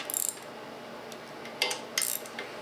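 A ratchet tightening the oil pan bolts on an FE engine, giving a few brief, faint metallic clicks and ticks spaced apart against a quiet background.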